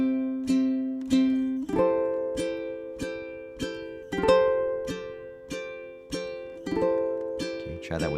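Ukulele chords strummed in a steady rhythm at a workshop, each strum ringing and decaying before the next, with the chord changing a few times along the way.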